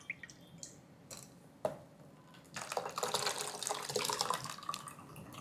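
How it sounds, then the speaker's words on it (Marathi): Half a cup of water poured into a kitchen mixer grinder jar while making ghevar batter: a few light drips and clinks, then a loud, steady splashing pour for several seconds, close and without talk. "आणि आता यामध्ये आणखी अर्धा कप पाणी मिक्सरच्या भांड्यामध्ये"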